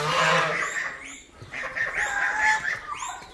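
Chickens and chicks on a farm, a close run of clucking and high peeping calls, fairly loud and continuous with brief pauses, and no talk over them.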